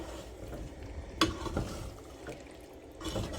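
A spoon stirs heavy cream into chicken alfredo in a pan, producing a soft, faint swishing with a single sharp clink partway through and a gentle, wet churning afterward.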